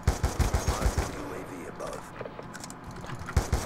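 Rapid automatic gunfire from a gun in the shooter Black Ops 2: a fast rhythmic burst of about ten close, punchy shots, a lull with faint mechanical clicks, then a few more shots at the end.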